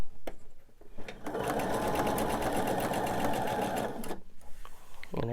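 A sewing machine stitches seams on a candy dish pillow, whirring in a fast, steady mechanical run for about three seconds between brief clicks and handling noises, close and clear with no talk.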